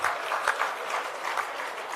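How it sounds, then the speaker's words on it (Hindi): Steady applause from a crowd gathered at a public foundation-stone ceremony for urban development works, broadband clapping with a few louder bursts, moderately distant and continuous throughout. "ताली जोरदार बजाओ"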